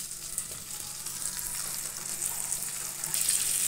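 Kachnar buds cook in hot oil for a Himachali pickle, sending up a steady bright sizzle that grows gradually louder, close by with no talk.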